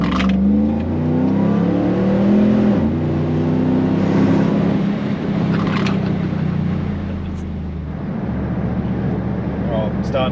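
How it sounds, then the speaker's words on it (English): A supercharged car passes by with a loud sustained engine roar and whine that rises and falls. Someone talks over it throughout. "I'm gonna do a drive by, pass a big O."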